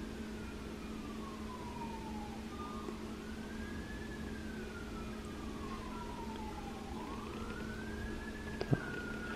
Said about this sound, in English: And police sirens.